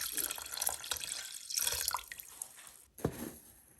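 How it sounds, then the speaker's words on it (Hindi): Water pours and splashes into a pot of rinsed toor dal in a home kitchen, a close, steady tap-like stream that briefly pauses and then resumes. "पानी डालते हैं"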